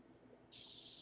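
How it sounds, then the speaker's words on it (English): Steady, close hiss of a spray bottle misting a lace wig crown, starting abruptly and continuing without a break after a moment of quiet room noise. "now I'm just going to spray it again"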